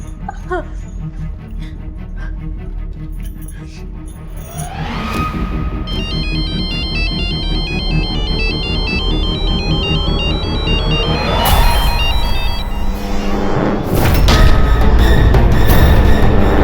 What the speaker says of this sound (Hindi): प्लीज मेरे फोन पे रिंग करोगी क्या?